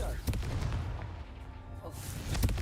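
Confringo spell explosion in a video game, a couple of sharp booming blasts with rumbling tails, near and punchy, mixed with a voice.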